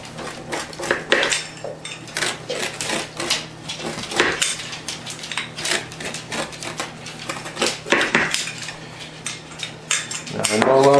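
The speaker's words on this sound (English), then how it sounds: "just cut it into little strips" A knife works through homemade Halifax donair meat on a board, cutting it into thin strips with quick, close, repeated clicking chops and scraping that run steadily throughout.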